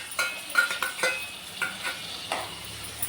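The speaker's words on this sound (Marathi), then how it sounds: "आणि छान कांदा तेलावर परतून घ्यायचा आहे।" Onion and tomato frying in oil over medium heat for a cauliflower and potato vegetable dish, with soft intermittent sizzling and a few spatula stirs and scrapes against the pan, close and fairly quiet.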